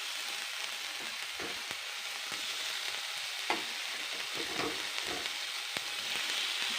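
Ginger and garlic paste fries in a hot pan with a steady close sizzle, broken by occasional stirring clicks, no talk.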